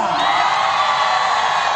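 A large crowd sheltering as disaster evacuees in Aceh cheers and whoops for the President, a steady, loud roar of voices held for a moment with no break.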